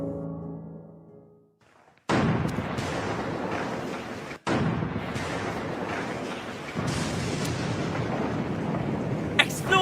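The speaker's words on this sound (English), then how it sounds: "Explosion!" A loud, sustained rumbling blast sound effect in a stage performance at a national day ceremony at Expo 2020 Dubai, bursting in abruptly, cutting off briefly, then roaring on in a dense, continuous wash.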